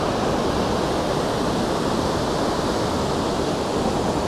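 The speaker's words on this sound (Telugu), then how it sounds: "నిజంగా ఈ వాటర్ ఫాల్ అయితే చాలా స్ట్రాంగ్ ఉంది." A powerful roar of rushing water from a large Icelandic waterfall thunders without pause, broad and loud, heard up close.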